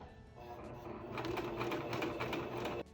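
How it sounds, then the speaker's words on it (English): A sewing machine runs in a quick, steady burst while top-stitching along the top edge of a fabric face mask, close and fairly quiet, stopping abruptly near the end. "Now we're gonna sew this top stitch along the top of the mask."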